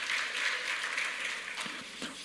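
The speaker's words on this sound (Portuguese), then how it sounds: "Não, gente, vamos aplaudir." A church congregation applauding, a steady wash of many hands clapping at moderate loudness for a couple of seconds, fading slightly toward the end.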